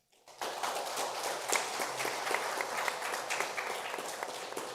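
A debate audience applauds after a candidate's closing statement, a dense, sustained round of clapping that starts abruptly and carries on steadily, heard from within the hall.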